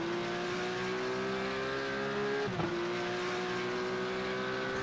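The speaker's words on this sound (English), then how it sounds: "Those Z4s don't sound like Z4s, do they?" Race car engines from BMW Z4s in the iRacing sim at a Bathurst 12-hour event, a steady loud droning whine holding pitch, briefly dipping as the car shifts or lifts, then resuming its continuous buzz.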